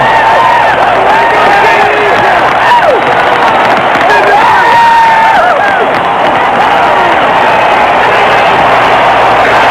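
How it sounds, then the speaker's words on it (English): A large stadium crowd in Cleveland roars and cheers continuously after a home run at the 1981 MLB All-Star Game, loud and sustained with whoops and scattered applause throughout. "the jubilant Cleveland crowd seems to sense that this might be the American League's year"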